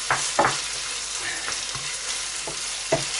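Minced lamb browning with peas in a hot pan for keema mattar curry, a steady close sizzle with a handful of sharp scraping stirs spaced through it, no voices.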